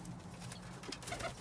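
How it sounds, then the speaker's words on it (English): A nun pigeon crossed with a roller pigeon cooing on a farm, soft low coos repeating close by over a quiet background. "is a, I think it's a nun pigeon, crossed with a roller"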